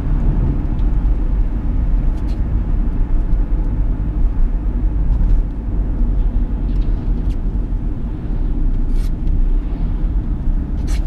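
A 2010 Chevrolet Captiva 2.0 VCDi diesel SUV drives steadily, with a constant low cabin rumble of engine and road noise and no clear breaks at the gear changes.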